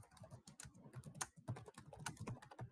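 Quiet, rapid clicking of keys on a computer keyboard while writing code, a soft, steady patter of keystrokes with no voice over it.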